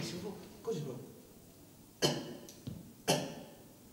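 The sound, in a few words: two light coughs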